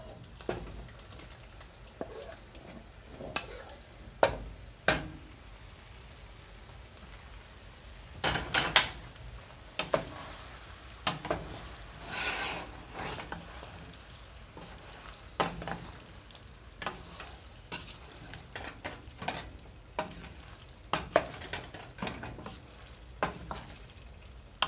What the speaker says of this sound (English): Let's go ahead and combine the tomato sauce with our pasta.